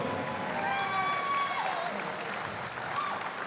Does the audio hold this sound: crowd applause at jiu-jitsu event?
yes